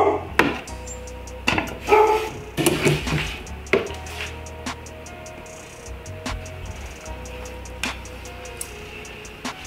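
Several dogs barking in the background while snakes are being fed, a few sharp barks clustered early on and then scattered faint ones over a steady low hum, with occasional ticking and clattering.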